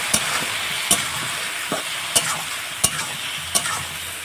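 A prawn mixture with salt and turmeric is stirred in a sizzling pan, with sharp spatula clicks against the metal about every second over a constant close frying hiss.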